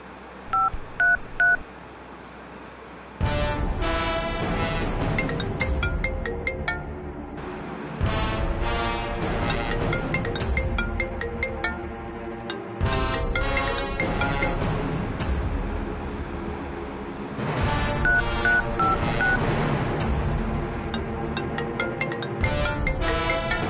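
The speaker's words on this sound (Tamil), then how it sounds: "சார் ஃபோன் ரிங் போயிட்டே இருக்கு, எடுக்க மாட்டேங்கிறாங்க" Rapid bursts of telephone keypad dial tones, then a ringing phone repeating in long, loud cycles with short gaps between them, going on with no answer.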